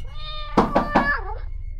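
A cat meows indoors, starting with a long drawn tone, then a few quick bursts, and ending in a wavering falling meow, with a couple of soft knocks mixed in.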